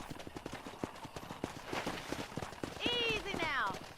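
Horse hooves in Red Dead Redemption clip-clop in a steady rhythm, then a horse whinnies briefly near the end, with people talking over the hoofbeats.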